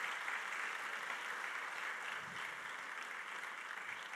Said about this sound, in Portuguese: Uma salva de palmas pela vida desses irmãos também.